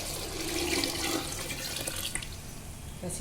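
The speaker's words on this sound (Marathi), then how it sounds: "त्याच्यात मी आता पाणी ओतते आणि आपण झाकून ठेवणार आहोत" Water poured over freshly washed wheat in a container, a steady close rush of pouring liquid that tapers near the end.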